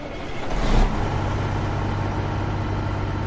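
Truck engine idling in the driving game American Truck Simulator, a steady low diesel rumble with a brief swell near the start, then an even, continuous drone with no talk.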